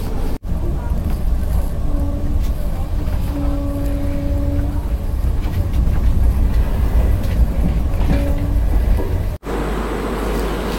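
An Indian long-distance train on the Thiruvananthapuram to Delhi route, heard from inside a first-class coupe, gives a steady loud rumble of wheels on rails with a brief drop near the start and another near the end.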